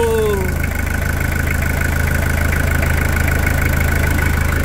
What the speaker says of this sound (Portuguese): Motor a diesel, esse aqui é o melhor som.